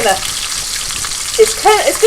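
Crispy bacon frying in peanut oil in a pan, a close, loud crackling sizzle with brief sharper pops near the end, no voices.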